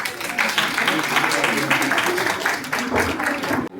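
Applause from a crowd, sustained clapping with voices mixed in throughout, ending abruptly.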